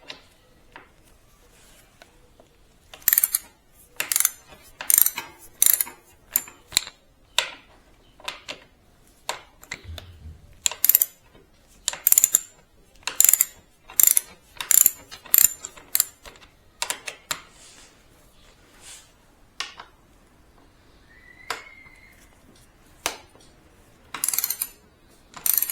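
A 12mm socket wrench loosens pinch bolts on a Suzuki DR-Z400S front fork, producing crisp ratcheting clicks in quick irregular bursts with short pauses, close and clear in a quiet workshop.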